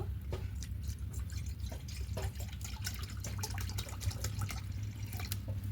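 Water trickles and drips into a bowl of dry rice flour for making pitha, a steady close pouring with scattered droplet splashes and no talking.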